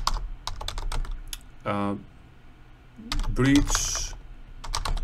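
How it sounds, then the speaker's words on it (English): Clicking of typing on a computer keyboard, steady close keystrokes in short runs, with a voice speaking briefly over the tapping. "So here we type our observations, what happened."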